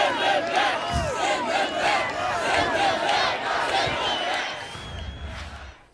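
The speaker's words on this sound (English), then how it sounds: "There were chants of send them back." A large crowd at a political rally shouts and chants loudly and continuously, voices merging into a steady roar with rhythmic surges throughout.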